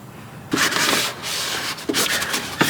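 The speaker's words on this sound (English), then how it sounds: "Put your hand underneath to minimize any kind of spillage. And just pull the pump out." A Mazda CX-5 fuel pump is drawn out of its fuel tank, making a loud scraping, rubbing rasp of plastic against the tank opening in a few bursts.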